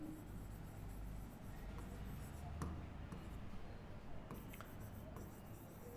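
Pen writing on paper while a maths probability problem is worked out, with faint soft scratching strokes at low level and no clear talk over them.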